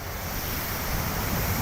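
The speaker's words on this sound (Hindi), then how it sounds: "पानी देखिए ऐसा बहता दिख रहा है मानो वहां कोई झरना बह रहा हो।" Floodwater rushes through city streets after heavy rain in Maharashtra, a dense, continuous roar of moving water that stays loud and even throughout.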